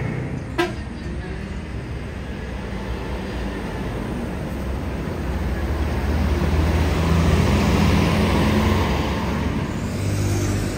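A Toyota HiAce van arrives at night on a road, its engine and tire noise swelling gradually from a general traffic rumble to a louder peak before easing slightly, with some distant background voices.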